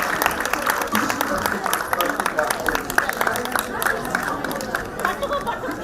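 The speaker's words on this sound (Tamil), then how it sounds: "பலத்த கரகோஷத்தை எழுப்புமாறு தாழ்மையுடன் கேட்டுக்கொள்கிறேன்." An audience at a Tamil society children's award ceremony applauds a prize-winning student, with sustained clapping from a crowd mixed with chatter and murmuring voices throughout.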